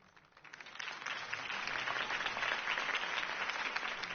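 Crowd applause follows a campaign speech in a video game set in Gotham, rising quickly into steady, moderately loud clapping that sustains through to the end.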